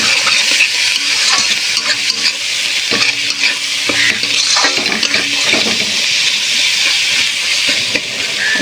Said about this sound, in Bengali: মশলাটাকে এবার ভালো করে কষাবো, দিয়ে ম্যারিনেট করে রাখা মাটনটা দিয়ে দেবো।